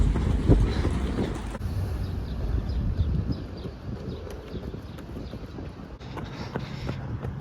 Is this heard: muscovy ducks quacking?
no